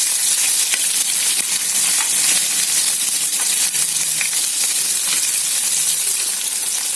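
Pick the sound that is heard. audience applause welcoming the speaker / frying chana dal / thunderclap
frying chana dal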